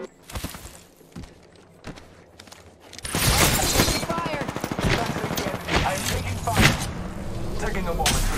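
Rapid automatic gunfire from an Apex Legends firefight, dense bursts and impacts building loud from about three seconds in after quieter scattered shots, with game effects layered throughout.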